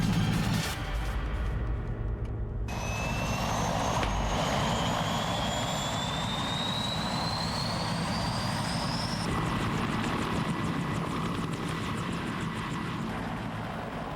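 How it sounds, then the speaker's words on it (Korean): A Cobra attack helicopter's turbine engine runs loud and continuous, a dense roar with a rising high whine as it spools up, heard close and alone without talk. "대량의 무기를 장착한 공격 헬기"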